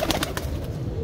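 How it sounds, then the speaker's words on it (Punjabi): A desi racing pigeon of the kind flown in tournaments coos once, close by, in a brief soft burst over a low background hum. "ਐਂ ਲਓ ਜੀ ਦੇਖੋ ਕਬੂਤਰ"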